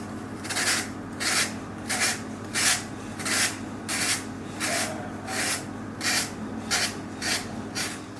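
Coarse-grit sandpaper is rubbed back and forth over a polystyrene block in steady, rhythmic strokes, about a dozen close scratchy swipes with no talking.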